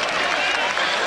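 Dense, loud crowd roar with scattered clapping fills the ground as spectators invade the pitch after the 1994 Hong Kong Super Sixes cricket final between Australia and England, a continuous wash of cheering with no break.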